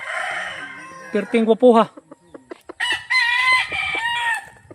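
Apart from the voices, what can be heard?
rooster crowing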